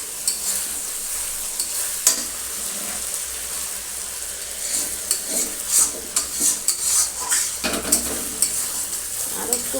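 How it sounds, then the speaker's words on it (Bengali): Spice paste stir-fried in a pan for about two to three minutes while roti and tarka are cooked, giving a loud continuous sizzle broken by repeated scraping and stirring strokes of the spatula. "মশলাটা আমি অনেকক্ষণ ধরে ভাজছি, প্রায় 2 থেকে 3 মিনিট ধরে।"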